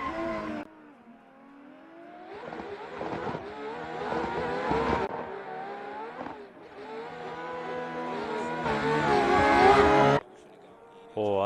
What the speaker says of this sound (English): Oh, Alexar with very good wall rides